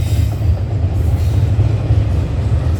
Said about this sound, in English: I hear a train, a rumbling.